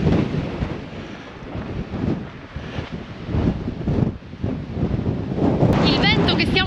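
Strong Patagonian wind gusts buffet the microphone in heavy, uneven rumbling blasts near Cerro Torre, loud and continuous, with voices faintly mixed in toward the end.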